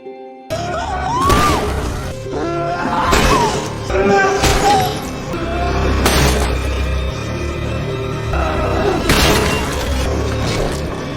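A mannequin is smashed as a film sound effect: a string of loud shattering crashes and heavy thuds lands every couple of seconds, with breaking debris ringing between the impacts.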